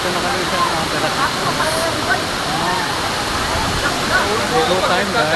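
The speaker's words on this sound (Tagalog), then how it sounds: "Rinig na yung lagasan ng tubig guys." A steady, loud roar of rushing water pours continuously at Daranak Falls, heard up close with no let-up, while a few voices occasionally sound over the cascade.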